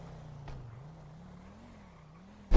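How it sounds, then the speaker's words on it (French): A police car engine in a video game drones low and steady, its pitch wavering gently as it runs, with a soft bump early on and a sudden loud burst at the very end. "Ils sont trop reconnaissables au bruit de leur voiture"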